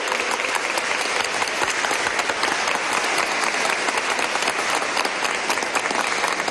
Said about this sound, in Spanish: todo nuestro aplauso y reconocimiento a las mujeres que están en las calles batallando